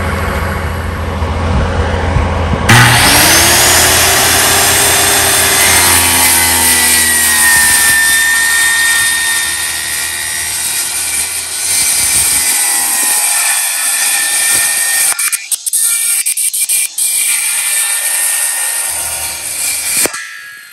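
A power saw cuts into a boat deck to make an opening for a recessed foot pedal tray, a loud, whining, continuous cut with shifting pitch as the blade works through the material, pausing briefly near the end before resuming.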